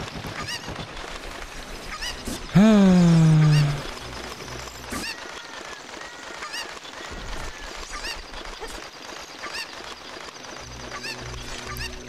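A chicken-like Cucco cry from a hacked Zelda: Ocarina of Time game, a single loud squawking honk with a falling pitch lasting about a second, set over steady game music and ambience.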